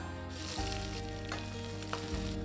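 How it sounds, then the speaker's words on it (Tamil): Constant sizzling of sliced large onions sautéing in a hot pan for red bean kurma, close and steady, with a low hum underneath and no talking. "ஒரு பெரிய வெங்காயம் நீல வாக்கில் நறுக்கி வச்சிருக்கேங்க. இதை நல்லா வதக்கி விட்டுக்கலாம்"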